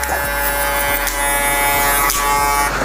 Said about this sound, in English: you go back in there with your shaver